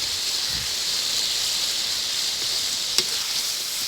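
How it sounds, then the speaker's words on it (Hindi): Cauliflower and meat sautéing in a pan give a steady, close sizzling hiss that runs unbroken throughout, with a faint stir or scrape near the start and a single sharp tap near the end. "और फिर थोड़ा सा हम इसको और सौते करेंगे हल्का सा।"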